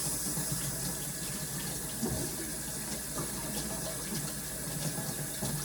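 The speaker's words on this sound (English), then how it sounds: "Let me wash my hands again." Tap water runs steadily into a kitchen sink while hands are washed, during preparation of crock pot chicken and dumplings; a continuous close hiss and splash with no talk.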